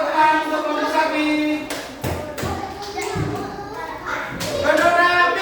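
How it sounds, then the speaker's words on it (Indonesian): Schoolchildren in a second-grade classroom clap for a group of classmates, a burst of close, rhythmic hand claps with some thumps mixed with children's voices and chatter. "Beri tepuk tangan untuk kelompok sapi."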